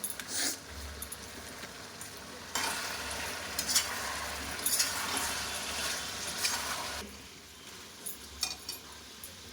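Meat sizzles and fries in a pan with onion, garlic, whole green chillies and a pinch of cumin, with stirring scrapes and a steady frying hiss that swells loud through the middle, then eases.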